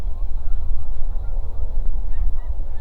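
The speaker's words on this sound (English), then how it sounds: "These snow geese just arrived today." Dense chorus of snow geese honking in spring in northwest Missouri, many birds calling continuously and loudly at once, with no talk.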